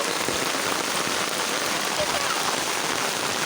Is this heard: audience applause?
no